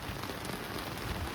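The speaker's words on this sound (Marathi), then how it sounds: "गाईज बाहेर पूर्ण पाऊस पडायला लागला" Heavy first-monsoon rain pours down outside a house, a constant close hiss of drops drumming on surfaces with no voices over it.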